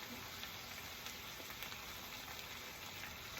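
Winged beans in coconut milk with chili gently simmering in a pan, a steady faint bubbling and soft sizzle throughout, with no talking.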